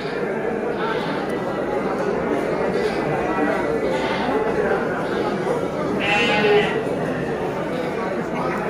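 Goats and sheep bleat repeatedly amid a busy livestock market crowd at Tanjungsari, with people chattering nearby throughout.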